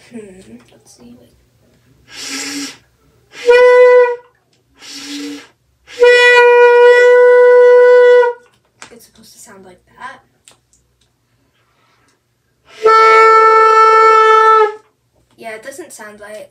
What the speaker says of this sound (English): this is the high A with the trigger